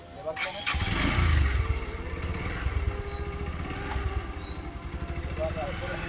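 A motorcycle engine starts up with a low roar, then settles into a steady idle. Someone talks nearby over it.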